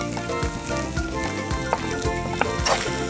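Hash lobster sizzles steadily in a seasoned pot while a utensil stirs through it, with scraping strokes and soft knocks over a dense, continuous frying hiss, close and fairly loud.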